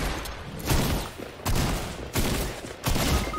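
Rapid bursts of gunfire from a Fortnite squad match come in several loud, dense volleys separated by brief lulls, with no talking over them.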